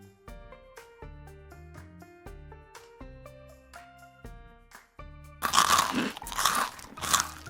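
Cartoon birds eating momos, loud crunchy chewing bites arriving near the end over a light plucked musical tune that plays throughout, with no talking.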